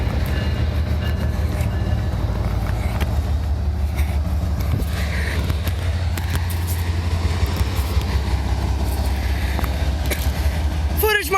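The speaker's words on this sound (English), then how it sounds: "it looks like we have another coal train here at Grafton" A CSX coal train rolls past at Grafton, West Virginia, a continuous heavy rumble of wagons with scattered clanks and squeals, loud and steady throughout.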